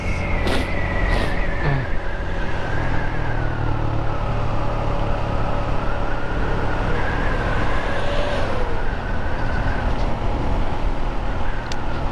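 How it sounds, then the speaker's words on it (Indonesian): Trucks rolling past on a road at night, a loud continuous rumble of heavy engines and tire noise with drawn-out passing tones, close and dense throughout. "Kalau malam-malam ya kayak gini nih, banyak truk-truk yang berlintas."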